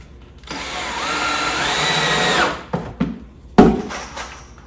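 A power drill drives screws into a wooden swarm trap box, one long whirring run that rises in pitch and stops, followed by a few short bumps and knocks as the work is handled. No one talks.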